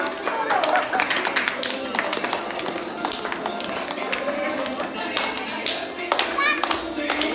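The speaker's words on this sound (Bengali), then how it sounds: "সবাই জোরে জোরে হাততালি দিয়ে" People clap loudly at a child's birthday, a dense run of sharp hand claps lasting several seconds, mixed with voices and chatter close by.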